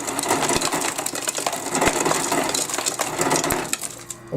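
Frigidaire Gallery refrigerator ice dispenser running in crush mode, a continuous grinding, rattling crunch of ice with sharp clinks of pieces dropping, steady and close throughout.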